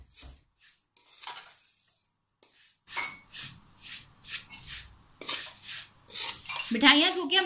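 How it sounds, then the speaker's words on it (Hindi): Leftover sweets being stirred and roasted into halwa in a pan, giving repeated scraping and rubbing strokes of a spoon against the metal, close and moderately loud, growing busier toward the end. "अब इसको हम दोबारा से भूनते हैं।"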